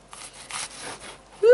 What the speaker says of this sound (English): knife, cut it in half, then twist it around, then don't cut your fingers.